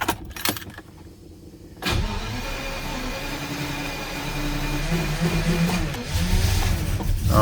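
A Jaguar XJS V12 barn find cranks briefly, then catches and fires up into a rough, loud idle that keeps running and builds slightly toward the end.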